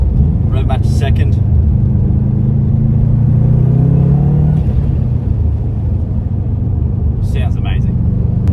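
A modified Subaru with an aftermarket exhaust from the headers back rises in a rev-match blip while downshifting to second gear, a loud rumbling swell mid-clip, with a voice speaking briefly at the start and end.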